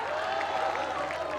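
Steady audience clapping at a Hindi comic poetry recital (hasya kavi sammelan) in Deoria, a dense, even wash of applause from a crowd for the whole short stretch.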